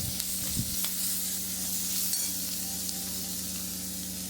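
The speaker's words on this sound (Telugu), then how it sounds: "బఠానీలు వేసేసుకోవాలి. చక్కగా కలుపుకుందాం." Boiled peas being stirred into cabbage curry with garlic paste and turmeric in a hot pan: a continuous sizzle with a couple of scraping spoon strokes early on over a low hum, no talking.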